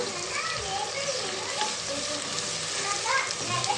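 Sliced onions fry steadily in hot oil with salt and turmeric, a dense continuous sizzle with occasional stirring scrapes, close and fairly loud.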